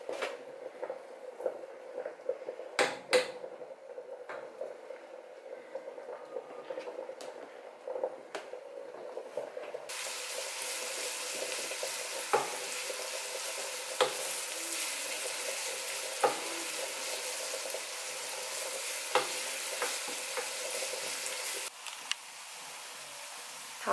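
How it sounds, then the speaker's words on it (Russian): Onion and carrot sauté in a pan for a mushroom soup, a soft steady sizzle that grows fuller and louder partway through, with occasional stirring scrapes and no voices. "лук с морковкой у нас немного пассеровались"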